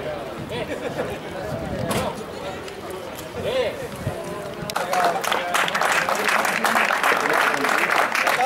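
An audience at the 2014 FATACIL Sprint Rally prize-giving ceremony in Lagoa bursts into loud, dense applause about halfway through, following a stretch of talk and crowd murmur.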